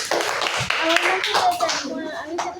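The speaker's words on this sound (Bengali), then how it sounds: "ওকে তালি" Children clap their hands in a classroom after showing off handmade paper crafts like boats and flowers, a brisk burst of clapping mixed with kids' chatter and talk.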